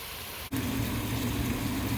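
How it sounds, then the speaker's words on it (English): Bacon sizzling and crisping in a cast iron pan, a steady close hiss of frying fat that fills the clip after a brief dip in sound. "while that bacon's crisping up"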